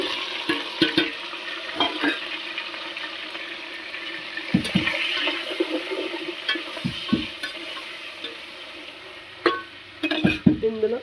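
Tomatoes, green chillies and onions frying in a pan for cauliflower curry, a steady sizzle with intermittent stirring and clattering knocks against the pan, close and moderately loud.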